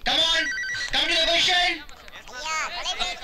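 A mobile phone ringtone rings out loud and melodic in a film scene, its bursts of tones repeating, with voices heard around it.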